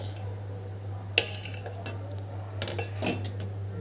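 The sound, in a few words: spoon mixing oats dosa batter in a bowl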